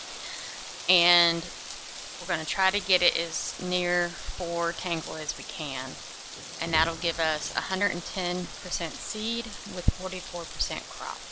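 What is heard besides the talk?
rain from the video game Boundless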